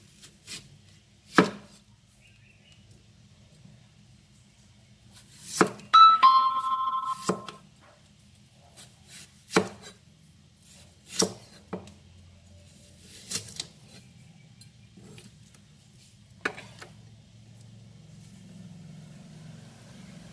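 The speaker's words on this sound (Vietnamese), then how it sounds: "Củ hành này mình sẽ xắt múi cao lớn nha." Knife chopping an onion into large wedges on a cutting board, about ten sharp, spaced thuds with brief rustling of the onion between cuts, close and heard alone.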